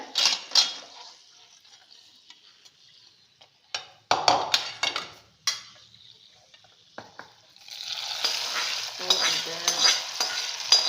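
Spices and ghee sizzle in a small pan for a ven pongal tempering. Clinks and scrapes of a spoon stirring against the metal come in intermittent bursts, followed by a louder, steady crackling fry near the end, close and with no talking.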